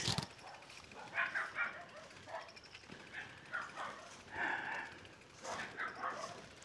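Several dogs bark and yip in bursts along a rural road near Kawayanan Falls in Amadeo, Cavite, the calls coming in clusters at moderate distance over a steady outdoor background.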